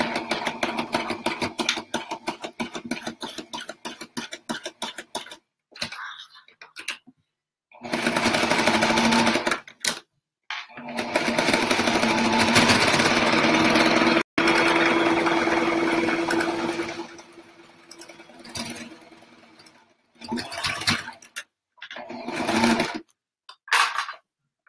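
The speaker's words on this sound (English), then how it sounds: "we're just gonna sew all the way around" Sewing machine running a straight stitch around a triangle placemat, in close, loud bursts of rapid rhythmic stitching separated by pauses and brief quieter handling.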